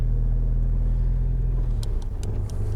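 A Honda Civic EK drives with a low, steady engine rumble; near the end a few short rattles and clatters break through the drone.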